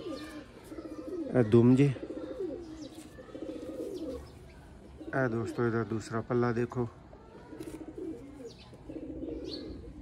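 Sialkoti Ali wale pigeons coo in a few low, rolling bursts close by, while someone talks over and between the calls.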